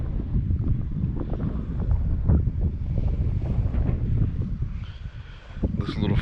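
Wind gusts over a lake at a small floating dock, a steady rough rumble of wind on the microphone with lapping water beneath it, continuous and fairly loud throughout.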